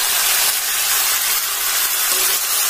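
Tomato pieces hitting a hot pan in a Bengali home kitchen while cooking pui metuli, giving a steady, close, bright sizzling hiss that holds evenly throughout without any voices.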